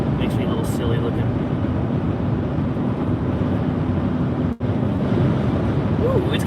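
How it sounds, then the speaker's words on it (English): Wind buffets a microphone out on the road, a loud, continuous low roar and rush, with a voice talking over it. "it's getting windy now"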